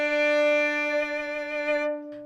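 A nearly 300-year-old Stradivarius violin sustains a single bright, ringing bowed note, clear and close, for about two seconds before it stops, with nothing else heard.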